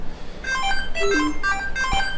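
A phone call's ringing tone plays through a small My Vision Bluetooth 3.0 mini speaker in hands-free mode, repeating in short evenly spaced electronic bursts at moderate loudness, with no talking over it.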